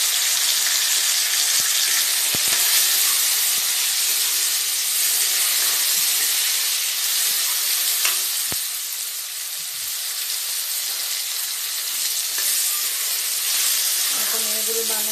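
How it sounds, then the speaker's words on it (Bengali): Tomatoes fry in a hot pan for Bengali masoor dal with drumsticks, giving a loud, steady sizzle and hiss throughout, broken by a few sharp clicks of stirring against the pan. "আমার টমেটোগুলো একটু নাড়াচাড়া করে ফ্রাই করে নিয়েছি।"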